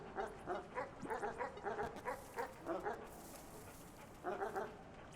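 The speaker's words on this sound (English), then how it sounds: "there's also this dog here" A dog in the video game Animal Well gives a steady run of short, rhythmic barks and yips, clear and fairly close, pauses briefly, then resumes with another quick burst.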